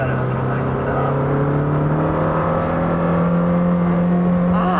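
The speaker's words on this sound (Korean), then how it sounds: "근데 진짜 이 배기음이 다르다." Lamborghini Temerario with a 4.0-litre twin-turbo V8 of over 900 horsepower drives in Strada mode, giving a steady, loud engine and exhaust drone that holds throughout, with sustained low tones and no speech over it.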